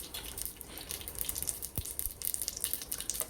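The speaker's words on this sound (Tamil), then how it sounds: "இப்போது கடுகு, ஜீரகம், வெந்தயம் இது எல்லாத்தையும் நம்ம தாளிச்சிக்கணும்." Mustard, cumin and fenugreek seeds tempering in a hot mix of coconut oil and cooking oil for village-style kootanchoru, giving a faint, steady sizzle with light crackles and pops.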